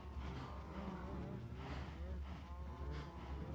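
Minecraft cows moo repeatedly in a game, several overlapping low, drawn-out calls in quick succession, fairly loud and close, with no talking.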